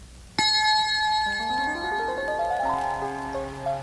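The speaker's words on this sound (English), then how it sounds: "Don't forget to turn the page every time you hear the chime." A chime signalling a page turn in a G.I. Joe Cobra Strikes talking storybook: a bright bell-like tone strikes and rings on, followed by a descending and then sustained cluster of sweeping synthetic tones, clear and steady with no speech.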